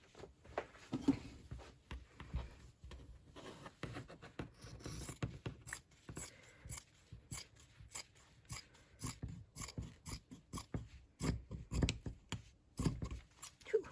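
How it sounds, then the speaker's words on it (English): Repeated crisp snipping and rustling of scissors cutting paper, close up, in irregular bursts with short pauses, no talking. "Is that the sound of a pair of scissors?"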